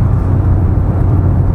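Steady low engine drone and road rumble from a car driving early in the morning, continuous and fairly loud throughout with no talk.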